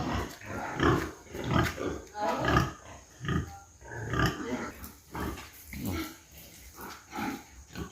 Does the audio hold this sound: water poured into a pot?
no